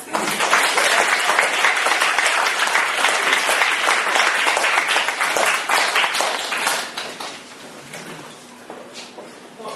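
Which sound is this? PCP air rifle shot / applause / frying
applause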